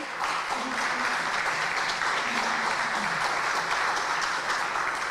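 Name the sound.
applause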